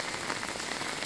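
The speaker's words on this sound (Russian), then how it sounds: "Видите, какой дождь." Rain falls steadily onto a street in Spain, a brief, even hiss of drops with no voices.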